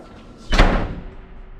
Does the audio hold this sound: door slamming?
yes